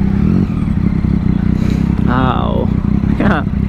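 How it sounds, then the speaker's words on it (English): A Triumph Street Triple motorcycle with an aftermarket SC Project exhaust and no dB killer rumbles loud and close in a steady throaty burble, while a rider's voice talks over the engine. "this one has a aftermarket SC Project exhaust that sounds so freaking sweet"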